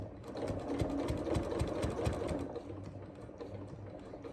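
A sewing machine stitches through fabric scraps in a quick, rapid rhythmic chatter, close and fairly quiet, then slows to a softer hum before stopping, with no talking.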